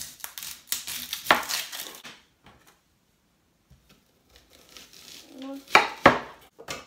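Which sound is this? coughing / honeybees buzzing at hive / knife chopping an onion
knife chopping an onion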